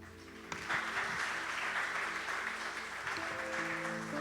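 Applause from a church congregation, a steady dense wash of clapping that swells in at the start and holds fairly evenly throughout, moderately near.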